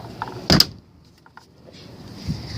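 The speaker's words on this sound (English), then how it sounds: "I'm not good at not closing doors" A door shuts with a sharp close thump, followed by quieter faint clicks and rustles and a soft low knock at the end, outdoors on a morning with an old car nearby.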